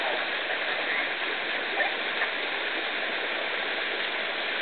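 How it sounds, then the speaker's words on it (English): Steady rushing of a mountain stream, a continuous broadband gush of flowing water close by, with no voices. "There's nothing like the sound of running water when you're up in a mountain."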